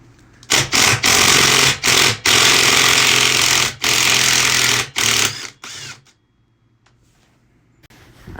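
Impact wrench hammering loose a 17 millimeter bolt on a 2006 Suzuki DR200 SE during clutch replacement, several loud close bursts of rapid rattling separated by short pauses, then quiet.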